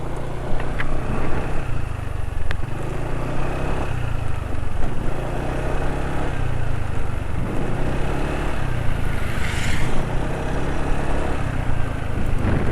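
A Yamaha motorcycle engine running on Yamalube RS4GP oil hums steadily and continuously up close, with an even low drone and no voices.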